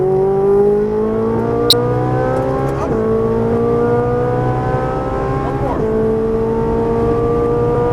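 A Ferrari 458 Italia on the Las Vegas Motor Speedway track, its engine climbing steadily in pitch under hard throttle with two brief shift breaks, loud and close, while a man briefly calls out instructions over it.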